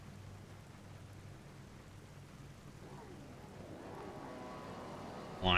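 Rain falls steadily on the Donington Park circuit in iRacing while Supercars wait on the grid, an even, low hiss that swells slightly toward the end, closing with a short loud burst.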